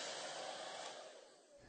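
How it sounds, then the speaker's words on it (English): A simple hair dryer blows a steady, close, breathy rush of air for under two seconds, easing slightly toward the end. "we just chose to use a simple hair dryer"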